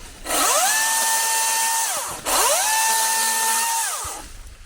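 A battery-powered professional top-handle chainsaw cuts through a limb in two loud, close passes, each a sustained whine that rises at the start and drops off at the end, with a brief pause between them.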